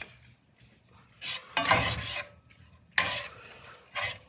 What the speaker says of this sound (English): And you mix it up right there